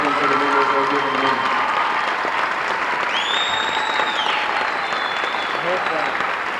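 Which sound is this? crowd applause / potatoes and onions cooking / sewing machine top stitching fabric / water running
crowd applause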